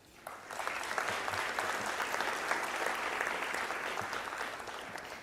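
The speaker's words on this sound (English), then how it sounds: "Please join me in applauding her." Audience at a university commencement ceremony gives sustained, even applause for a graduate. Dense clapping fills the hall from start to finish.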